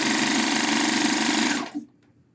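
A serger sewing machine running its automatic needle-threading system: a loud, dense mechanical whir lasts about a second and a half, then cuts off sharply, leaving a brief clunk and near silence.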